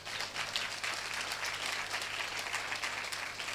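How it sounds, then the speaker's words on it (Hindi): Steady crowd applause at a church service, dense and continuous, with many hands clapping together at a constant level for the whole stretch. "तालियां बजाकर प्रभु को धन्यवाद दे दीजिए।"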